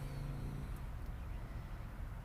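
Distant road traffic and wind coming through an open car window, a low continuous rumble with no distinct passing vehicles and no talking.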